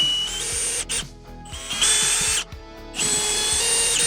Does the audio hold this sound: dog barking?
no